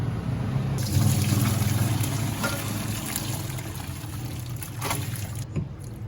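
Cold tap water runs steadily from a faucet in a kitchen while cassava leaves are prepared for blanching, a close, continuous trickle and splash with a few small knocks.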